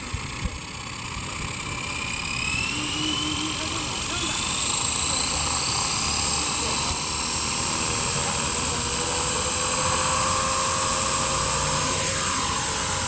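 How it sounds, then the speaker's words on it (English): An RC helicopter's motor runs with carbon fiber blades fitted, giving a loud, steady whining drone with rising pitch sweeps and rushing wind noise throughout. "So we're gonna start the motor, and now let's go back and see how it's flying."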